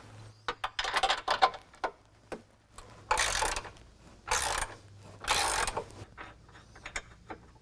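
A ratchet wrench loosens the passenger-side frame bolts while the factory front bumper comes off a 2022 Jeep Wrangler JL. It gives short, close bursts of rapid clicking, separated by brief pauses.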